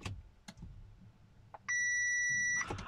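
An Audi/VW dashboard warning alarm sounds after ignition on: a single sustained electronic beep held for about a second, preceded by a few faint clicks and followed by brief handling noise.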